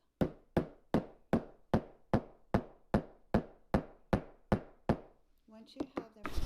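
A metal snap is hammered onto a fabric gift box with about thirteen sharp, evenly spaced knocks at close range, each ringing briefly before the next, followed by a moment of soft handling noise.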